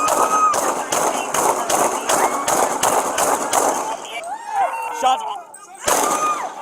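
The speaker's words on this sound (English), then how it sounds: "Shots fired! Shots fired!" Rapid bursts of gunshots ring out at a police call in Baltimore, a dense volley of sharp cracks for about four seconds, then a pause and another burst, with shouting voices amid the firing.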